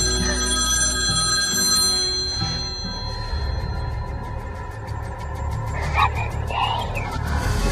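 A telephone rings in repeated electronic bursts from a scene in The Ring, sounding over a dense, droning score.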